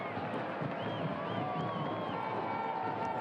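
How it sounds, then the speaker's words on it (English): A football crowd at a New Mexico United vs. Las Vegas Lights FC match roars steadily in the closing minutes, a broad wash of cheering with faint whistling above it while a commentator talks over the noise. "This crowd is cheering on their team with only 90 seconds left"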